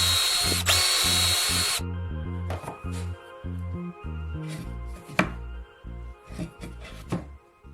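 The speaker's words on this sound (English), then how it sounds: "Drill holes in the necessary places right through the tape" A power drill boring through masking tape into wood in several short bursts, whirring up and cutting with pauses between, close and loud.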